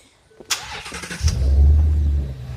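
Shelby 350 car engine cranking to life after a sharp click, then settling into a loud, deep, steady rumble nearby, with no talk over it.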